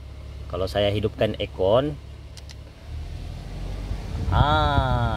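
A Perodua Alza engine idles steadily, then its pitch rises as the air conditioning kicks in and the cooling fan spins, with a person talking briefly near the start.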